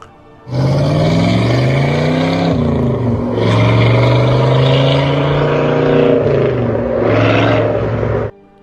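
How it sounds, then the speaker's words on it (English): A fourth-generation Chevy Camaro engine revving loudly and close, its tone rising and falling in several sweeps over about eight seconds, with a brief dip mid-way before climbing again and cutting off abruptly. "So here is a clip of a fourth gen Camaro."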